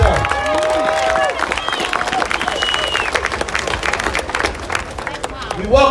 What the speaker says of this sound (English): Let's give Grandmaster Jay another big round of applause.